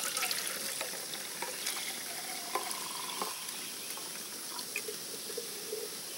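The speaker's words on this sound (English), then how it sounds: "right about the time the water starts coming through the spout" Water pours steadily into a small coffee pot, filling it up to the spout for cowboy coffee, a faint continuous hiss with light splashy ticks and no talking.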